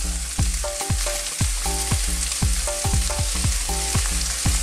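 Vegetables with baby corn, capsicum, cabbage and bok choy stir-fried in a wok, a steady sizzle broken by rhythmic scraping clangs of a spatula against the pan, close and loud.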